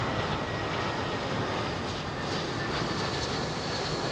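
A Virgin Atlantic Boeing 787 Dreamliner jet at London Heathrow gives off a steady, fairly faint broadband engine rush heard from a distance, unchanging throughout and with no voices.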